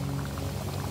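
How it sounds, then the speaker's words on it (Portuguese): Hot spring water on São Miguel in the Azores bubbles and churns at a steady boil close by, a dense continuous gurgling with no voices. "Aqui não, aqui parece-me mesmo a ferver."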